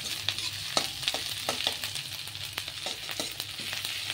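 Frying lightly in butter in a pan for chilli egg, a soft continuous sizzle with regular light taps and scrapes of a spatula, close and moderately quiet.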